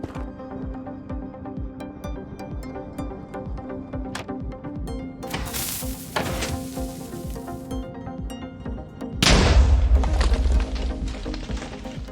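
A Minecraft explosion bursts out near the end of a steady game soundscape full of small clicks and tones, a loud, broad boom that rolls on for a couple of seconds.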